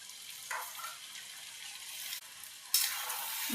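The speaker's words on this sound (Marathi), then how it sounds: "आता मी या शिजलेला भात टाकते त्या भाज्यांमध्ये" Cooked rice tipped into a pan of frying vegetables for vegetable pulao, with a steady sizzle and spatula scrapes through the mix and a brighter burst of frying near the end, close and alone.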